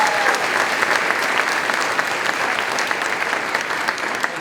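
An audience claps for teachers at a school-district foundation breakfast honoring Teacher of the Year, with a full, steady round of applause holding evenly from start to finish and no voices rising above it.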